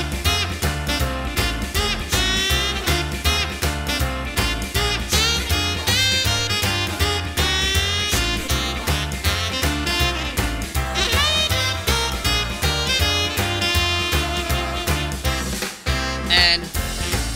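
Yamaha Genos arranger keyboard playing a 50s rock and roll style: a full, loud band backing with driving drums, bass and piano, steady and uninterrupted, with no voices.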